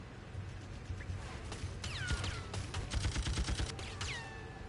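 Gunfire in the action video game BloodRayne 2, with rapid bursts of shots and metallic ricochet-like whines over a dense, continuous layer of game noise, moderately quiet overall.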